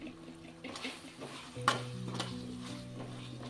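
Washed yam pieces go into a pan of frying onion and tomato with a stir and a clatter. A soft sizzle follows and continues quietly, with steady tones in the background.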